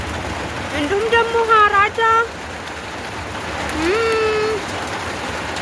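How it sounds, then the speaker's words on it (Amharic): Steady rain hisses as an even wash behind a voice talking over it, with a quieter stretch of plain rainfall between phrases. "ዝናብ መጣ"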